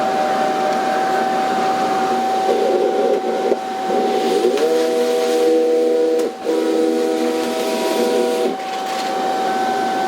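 A Cricut Venture cutting machine whirs and hums as it draws in a sheet of Smart Vinyl, with a steady high tone and a rising motor pitch that holds for several seconds.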